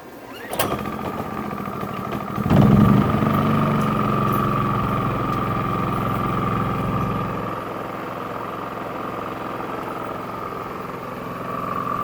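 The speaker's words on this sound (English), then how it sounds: "so that's the oil change of the generator. Let's crank her on, see how she did." A Champion portable generator fresh from an oil change cranks with a sharp pull, catches, and settles into a loud, steady running drone that holds close and even to the end.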